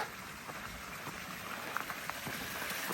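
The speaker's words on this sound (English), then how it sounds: "Water flowing here." Water flowing in a small channel in Japan, a faint, steady trickling wash with light irregular splashes throughout, no voices.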